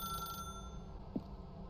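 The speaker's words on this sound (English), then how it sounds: "then pick up the phone." A telephone rings inside the video game The Stanley Parable, a brief electronic bell tone that stops early and is followed by a short faint click in a quiet room.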